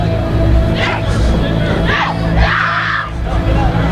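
An indoor wrestling event crowd at Fun Fun Fun Fest 2010 roars, cheers and yells in several loud swells under continuous ringside commentary.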